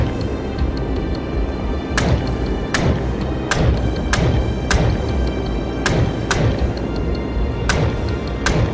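A warship takes hits in World of Warships, a string of sharp thuds and impacts at uneven intervals over a steady rumble of battle.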